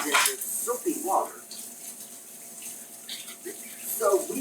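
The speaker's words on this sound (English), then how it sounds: "you gotta re-rinse the dishes." Tap water runs into a sink while dishes are rinsed, a soft steady splashing with a few brief louder bursts near the start and end, fairly close.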